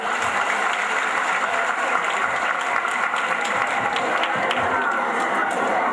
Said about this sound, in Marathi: तेव्हा या सर्व मुलांसाठी एकदा जोरदार टाळ्या वाजवूयात.